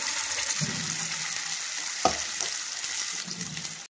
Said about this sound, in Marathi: तेलामध्ये ना हे जे वाटण वाटलेले ते टाकून घेते